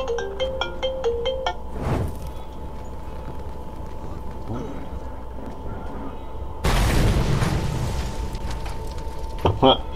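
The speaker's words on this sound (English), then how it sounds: "I just got a call FaceTime on my phone." An incoming FaceTime call ringtone plays on a phone as a short bright melodic pattern at the start, then gives way to loud booms and rumbling from Mad Max gameplay.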